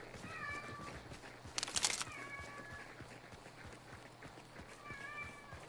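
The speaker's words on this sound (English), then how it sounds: "Meow meow cat." A cat meows a few times at a distance, faint, with a brief burst of noise between calls and quiet outdoor background.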